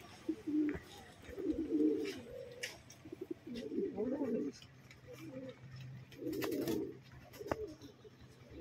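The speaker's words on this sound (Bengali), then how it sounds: "নর পায়রা, হ্যাঁ, এটা একটা নর পায়রা" Male pigeons of a bred fancy line coo in low, throaty bursts, several repeated calls at close range in an indoor loft, with faint background noise between them.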